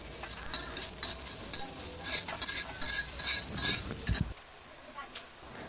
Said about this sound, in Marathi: आता तेल टाकून आपण खडे मसाले अगदी थोड्या वेळासाठी परतून घ्यायचं